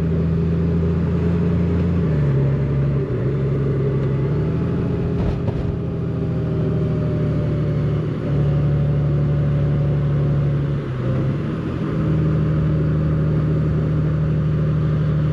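A Honda Goldwing motorcycle engine hums steadily while riding through a tight curve, a close, continuous mid-pitched drone that dips and rises slightly in pitch as the bike leans and settles.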